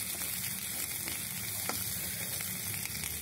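Chopped onion and green chili fry in a pan, giving a close, steady, dense sizzle that holds evenly throughout with no talking.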